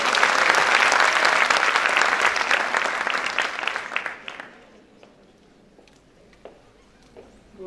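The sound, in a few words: audience applause for speaker Nadia Belberten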